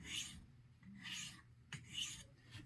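Straight razor with a chipped edge being honed on a sharpening stone with the spine raised to set a wide bevel; three faint, rasping strokes in a slow back-and-forth rhythm.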